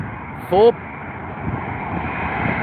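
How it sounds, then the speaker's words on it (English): Oman Air Boeing 787 Dreamliner airliner at London Heathrow, a steady broad jet roar throughout, with a brief shout breaking in early and wind-like noise over it. "Oman Air, my friends. In the Dreamliner."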